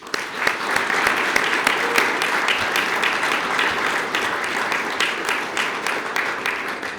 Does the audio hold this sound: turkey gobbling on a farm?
no